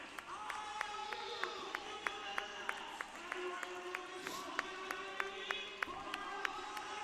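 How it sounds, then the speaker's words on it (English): Hockey game crowd giving a sustained ovation in an arena, steady applause and cheering with sharp rhythmic claps or thumps cutting through at regular intervals, moderately distant. "Boy, a nice ovation."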